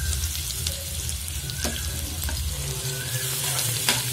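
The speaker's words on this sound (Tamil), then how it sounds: "ஆயில் சூடானதும் ஆனியன் போட போறோம்" Onions sizzling in hot oil with cumin seeds in a pan, a steady, close frying crackle with a few light stirring clinks, no talking.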